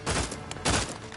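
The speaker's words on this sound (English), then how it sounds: "That was a grenade." In The Outer Worlds 2 video game, two quick muffled blasts from a grenade explosion are heard faintly, each a short burst of rumbling noise.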